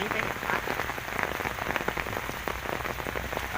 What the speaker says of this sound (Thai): ตอนนี้เป็นเพียงแค่น้ำฝนแล้วครับผม ตกตามธรรมชาติเนาะ